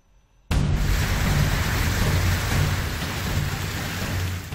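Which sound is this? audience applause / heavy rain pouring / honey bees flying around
heavy rain pouring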